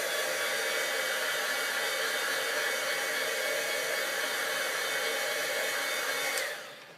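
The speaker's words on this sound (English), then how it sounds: "I'm just going to use my heat tool to heat set this." Embossing heat tool blowing hot air to heat-set dye-based ink, a steady loud whooshing fan roar held for several seconds before it switches off and spins down at the end.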